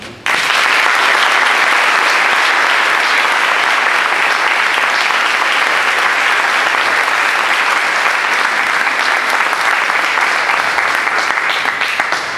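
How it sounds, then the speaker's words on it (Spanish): Sustained, dense applause from an audience welcoming Toni Negri to a lecture, loud and even from start to finish after a brief quiet opening. "le damos largada al encuentro con un aplauso para Tony"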